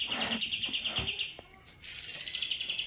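A young mountain ciblek, about three months old, gives rapid, bright repeated chirps in two close bursts with a short pause between, near and fairly soft.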